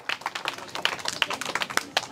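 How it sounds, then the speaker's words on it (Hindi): An audience at a street magic show claps in quick, scattered bursts, a lively patter of many hands that carries on for about two seconds, with voices mixed in. "ताली बजाओ सारे आदमी।"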